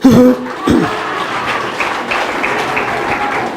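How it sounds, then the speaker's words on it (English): Audience applause at a youth development gathering in Kabale, Uganda, a steady wash of many hands clapping that follows a brief voice at the start and carries on at a fairly even level. "Can you clap for me?"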